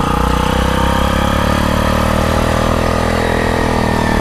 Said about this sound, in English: I wonder how loud the motor is.